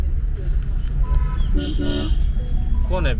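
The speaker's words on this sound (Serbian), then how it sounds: "This is tuk-tuk." An auto rickshaw (tuk-tuk) in the street traffic of Udaipur, India, gives several short horn toots over a steady engine drone, with people talking nearby.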